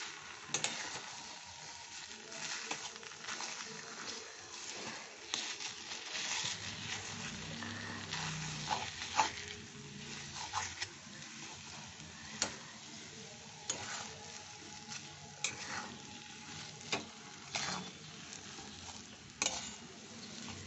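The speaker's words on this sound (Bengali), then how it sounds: "এটা খুব ভালো করে কষে নিচ্ছি।" A spiced stuffed-chili chop filling with sauce is stir-fried in a pan, with a soft sizzle under repeated scraping and tapping strokes of a spatula at an irregular, steady pace. The sound is fairly close but quiet.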